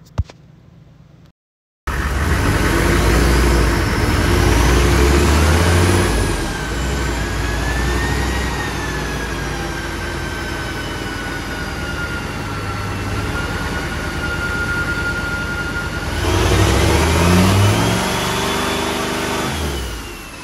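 Turbocharged farm tractor engine on a dynamometer, held at 12 psi boost, roars loudly and steadily with a rising whistle, settles into a sustained load, then surges again near the end.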